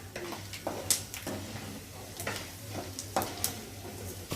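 Chana dal and mustard seeds frying in hot oil in a pan, a soft sizzle broken by scattered small pops and light clinks of a spoon, close and quiet.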